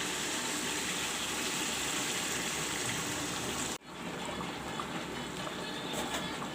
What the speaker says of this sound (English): Yes, now I will add some water.